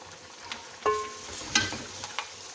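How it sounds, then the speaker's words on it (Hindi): Tomatoes and green chilies frying in a pan for a Sindhi beef biryani, a quiet steady sizzle with a few sharper crackles and stirring clinks scattered through. "अब मैं टमाटर डाल रही हूँ और कुछ सब्ज़ मिर्चें डाल रही हूँ, तो इनको भी थोड़ा भून लेती हूँ"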